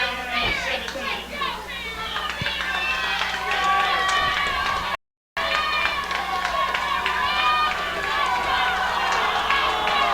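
Crowd at a high school football game roaring and yelling steadily from the stands, with many overlapping voices and children's shouts, loud and continuous apart from one brief dropout.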